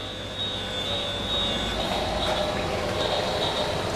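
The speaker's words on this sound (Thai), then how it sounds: "ว่าเป็นเสียงรถไฟ" A toy train runs steadily along a plastic track in a continuous mid-level whirring rumble with a faint high motor whine, close by and with no talk over it.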